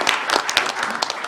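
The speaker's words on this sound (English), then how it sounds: "I really would just like one more round of applause" A short burst of applause, many hands clapping together in a dense patter from a crowd.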